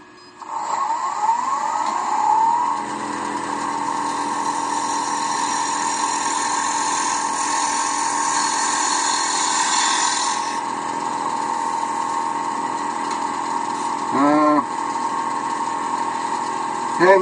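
A wood lathe spins steadily while a 1/2 inch spindle gouge cuts a tall thin-stemmed goblet, giving a continuous loud hum with brief scraping changes as the tool engages.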